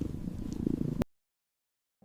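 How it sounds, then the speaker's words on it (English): A domestic cat purrs close by in a steady rumbling rhythm for about a second, then stops abruptly into silence. "The frequency of a typical domestic cat purr falls between 25 and 150"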